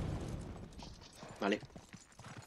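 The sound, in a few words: horse hooves clip-clopping in the video game Uncharted 3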